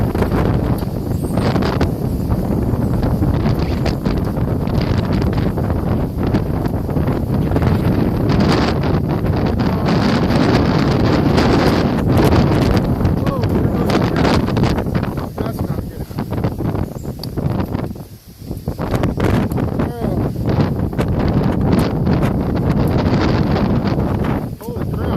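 A strong wind storm in Williston, North Dakota batters the microphone with loud, continuous gusting roar and rushing bursts, briefly easing for a moment near the eighteen-second mark before the gusts resume.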